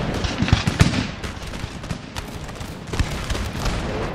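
Musket volleys and scattered gunfire in a Total War video game battle with 19th-century Austrian troops, a dense crackle of overlapping shots with a few sharper close reports, continuous throughout.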